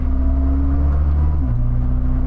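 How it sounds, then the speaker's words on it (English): Koenigsegg CC850 hypercar engine droning at a steady low pitch, then the tone drops audibly midway as a gear shift goes through, loud and close inside the car. "I only know there's a shift because I can hear the engine."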